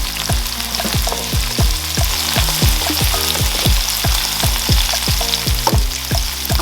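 Onions frying in hot oil for a Liberian chicken gravy, sizzling loudly and continuously while a spoon stirs them in a quick, regular rhythm, close up and with no voices.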